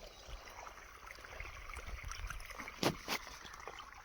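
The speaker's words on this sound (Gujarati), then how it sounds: "મિત્રો ફાઇનલી પાણી પોગી એવું છે ગોગા દાદાની લાઈનમાંથી" Water from an irrigation line flows faintly into a farm field, a low gurgling trickle with a couple of brief louder splashes.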